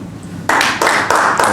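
Audience applause for a guest at a startup talk event, starting after a quiet lead-in as bursts of clapping that swell in uneven waves, moderately loud and fairly close.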